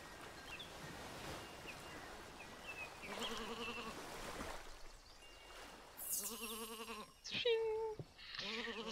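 Sheep in a video game island level bleat several times, wavering harmonic calls coming in short bursts, some close and loud, others softer, over a steady background hum.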